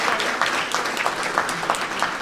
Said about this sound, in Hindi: ताली तो नेता लोग के लिए बजाइएगा।